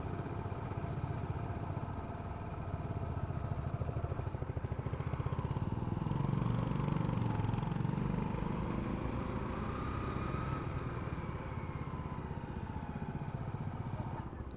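A motorcycle climbing a steep bend in first gear on a hill road, with a steady, labored mid-pitched engine drone that swells slightly as it strains upward, and a rider talking over it.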